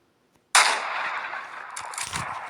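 A single sharp sniper rifle shot from a Minecraft guns mod cracks after a moment of silence. It is loud and close and trails off into a long, hissing decay, with no talking.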